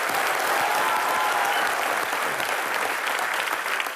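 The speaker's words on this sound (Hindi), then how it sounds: "जोरदार तालियां एक बार मैरी कॉम के लिए।" Studio audience at a comedy show gives Mary Kom loud, sustained applause, a thick even wash of clapping from many hands that holds steady for several seconds.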